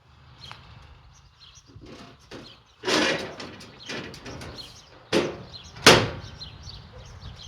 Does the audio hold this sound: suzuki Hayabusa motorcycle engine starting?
no